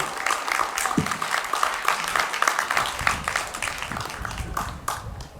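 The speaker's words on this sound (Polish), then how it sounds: "Jeszcze raz poproszę o, o brawa dla nich" An audience applauds the Kościelec folk dance group from Kościelec after a Wielkopolska dance at a folk festival, giving a steady, dense roar of clapping that carries on for several seconds and fades slightly toward the end.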